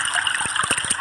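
Steady flowing water gurgles and splashes continuously for relaxing sound therapy, a close, even trickle with small bubbling pulses and no voices.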